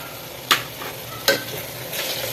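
Masala spices fry in hot oil for a soy dum biryani, giving a steady close sizzle, and two sharp scrapes of a spoon stirring the pan cut through it with no talking.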